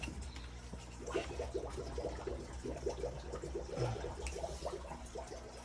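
Water flowing and gurgling in an aquarium as a Fluval FX6 canister filter restarts, a steady soft bubbling trickle at low volume close by.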